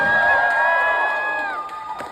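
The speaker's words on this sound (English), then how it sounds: "Make some noise for LJ." An audience cheers and whoops for a performer at a convention event, a loud sustained crowd shout with high voices that gradually tapers off over about two seconds.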